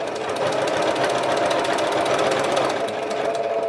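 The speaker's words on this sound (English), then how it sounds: "And just continue sewing now to the end." A sewing machine runs in one steady, continuous stitching hum for a few seconds while a 3D bow tie quilt block is sewn, close and even, with no talking.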